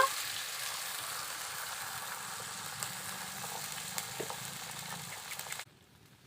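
Fried vegetables stirred together with water in a pan for a tangy raw mango fish curry, a steady low sizzle and bubbling with light scraping, ending abruptly near the close.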